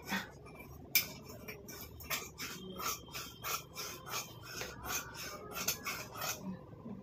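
Old fabric pants being cut up with scissors to make a mat, giving a run of close, rhythmic rasping snips and rubbing of cloth with no talk.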